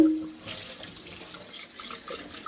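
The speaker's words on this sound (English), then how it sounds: "Let's rinse it off and see if we got it." Tap water runs steadily into a sink while a dish is rinsed, a close, continuous splashing hiss with a few faint clinks and no voices.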